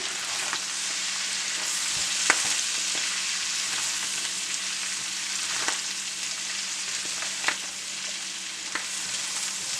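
A pan of pasta sauce with Italian herbs being stirred over the heat, giving a steady close sizzle and hiss with occasional soft scrapes and clicks of the spoon against the pan, with no talking.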